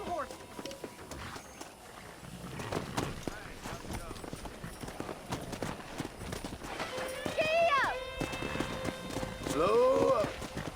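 Horses' hooves clip-clopping at a run during horse wrangling in the Red Dead Redemption video game, steady hoofbeats under game music with brief neighs and whinnies near the end.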